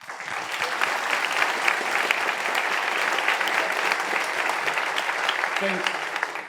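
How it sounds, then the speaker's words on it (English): An audience at a conference closing session breaks into sustained applause, a dense, even wash of clapping that holds steady for several seconds. "A big round of applause."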